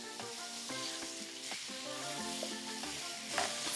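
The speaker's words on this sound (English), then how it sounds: "we're gonna stir fry this until it's almost done" Thai drunken noodles stir-fry in a hot pan, sizzling steadily and loudly throughout with repeated clanks and scrapes of a utensil against the pan as the food is tossed.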